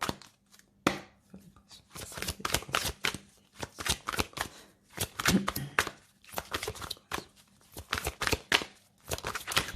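Tarot cards shuffled and drawn by hand, a busy run of crisp riffling and flicking bursts with brief pauses between, close and clear throughout.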